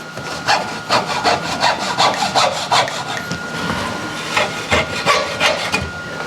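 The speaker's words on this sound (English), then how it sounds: "I have a little sawzall, probably work really nice. Yeah, they saw pretty easy." Small Sawzall reciprocating saw trimming pieces off aircraft build parts for ailerons, flaps and fuel tanks: a steady, loud, buzzing rasp of fast strokes that runs continuously, close by.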